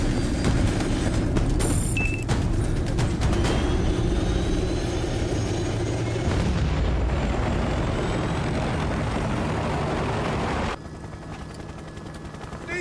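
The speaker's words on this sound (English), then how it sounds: "Marlo, back to the chopper!" Helicopter rotor and engine noise from the Battlefield: Bad Company video game roars continuously and loudly, mixed with bursts of gunfire and harsh battle effects before dropping slightly in level near the end.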